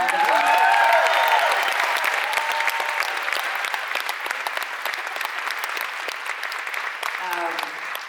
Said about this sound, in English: will you please put a huge round of applause together for my friend